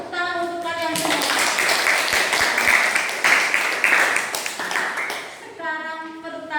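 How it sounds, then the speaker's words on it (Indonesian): A classroom of students clapping together for correct answers in a history lesson, a brisk burst of applause with a few sharp claps, framed by a teacher's voice talking before and after. "tepuk tangan untuk kalian semua"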